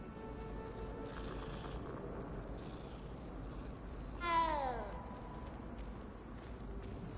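A cat in the video game Hogwarts Legacy gives a single short meow, rising then falling, over a steady game ambience.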